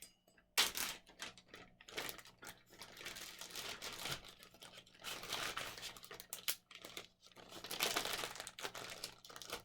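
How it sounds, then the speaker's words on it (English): Plastic zipper bags of ice cream being pressed shut and double bagged, with continuous close crinkling, rustling and small clicks of the seal, moderately faint and without talk. "And zip it closed really well. We'll double bag this one also."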